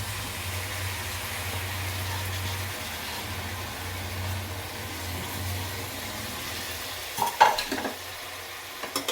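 Washed rice going into a tomato masala pan, with a low steady sizzle and hum followed by a few clattering stirs against the pan near the end.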